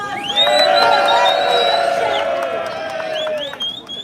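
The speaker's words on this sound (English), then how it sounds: "Everybody give your President, Madam President, a big round of applause" A street rally crowd in Manhattan cheers and whoops for the president, loud sustained voices and shouts rising over the noise, with a speaker's voice briefly audible.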